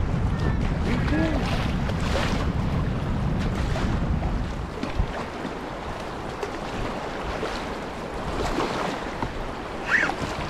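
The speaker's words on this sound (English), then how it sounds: "We're gonna hit some big waves here." Canoe on the South Nahanni River running through big waves, with heavy rushing water and wind noise that ease slightly midway, plus occasional splashes and faint voices.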